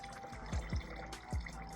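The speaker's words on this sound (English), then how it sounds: "This is distilled water." Distilled water pours and drips into a container in a few quick, soft plinking splashes, close and quiet, with no talking.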